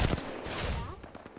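Gunfire in a video game, a burst of sharp close shots followed by quicker, lighter pops trailing off, with no talk over them.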